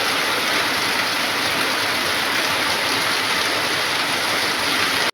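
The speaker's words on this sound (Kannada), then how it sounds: "ಒಂದು ಸ್ವಲ್ಪ ಹೊತ್ತಿನ ಮಳೆಗೆ ಈ ರೀತಿ ನೀರು ಬಂತು" Continuous rushing rainwater runoff after a short spell of rain, loud and steady like a swollen stream, with no voices and an abrupt stop at the end.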